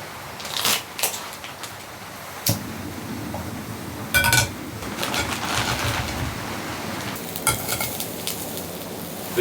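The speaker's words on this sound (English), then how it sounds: "I've got some cheese Kranskis. I've never had these before. They look really nice, so I'm gonna get these frying up" Cheese Kranski sausages frying in a pan at a cabin campsite, a soft steady sizzle with scattered clinks and scrapes of cooking utensils, moderately close.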